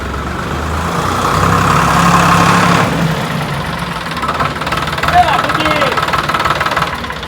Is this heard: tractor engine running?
yes